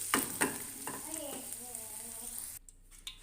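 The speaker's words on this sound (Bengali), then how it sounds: "তেল দিয়ে পনিরগুলোকে একটু ভাজা ভাজা করে নেবো বেশি ভাজা ভাজা করবো না হালকা করে ভেজে নেবো এগুলো" Paneer pieces frying in oil in a pan give a steady close sizzle with a couple of sharp stirring clicks near the start, then the sizzle drops away abruptly near the end.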